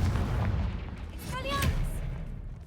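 A Confringo blasting spell bursts once in Hogwarts Legacy, a brief booming blast with a rising magical whoosh over a steady low rumble of game sound, with a voice speaking over it.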